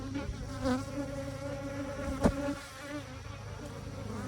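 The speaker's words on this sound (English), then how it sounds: "Just so y'all can see a lot of worker bees." A steady, dense buzzing of many honeybees at a hive fills the air, continuous and fairly close, with one brief sharper knock partway through.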